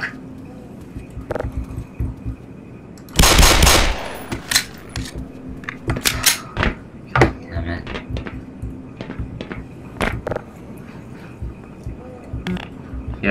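Gunfire in the Black Mesa video game: scattered sharp shots and short bursts, one loud sustained blast early, spaced irregularly over a quiet humming background with occasional voice.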